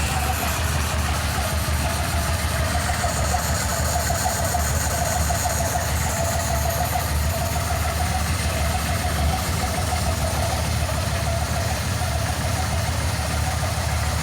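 A 1983 Yamaha Venture four-cylinder motorcycle engine idles steadily and fairly close, a continuous low rumble with an even, unchanging mechanical chatter throughout.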